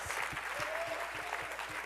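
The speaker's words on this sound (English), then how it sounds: "Let's give a big round of applause, yes, to all of you nominees today." Applause from an awards-ceremony audience greeting the nominees, a steady wash of many hands clapping throughout, fairly distant and even in level with no voices on top.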